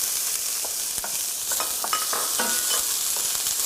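Olives stirred in a hot cooking pan, a continuous close sizzle with scattered scraping clicks of the utensil against the pan, steady and without talking.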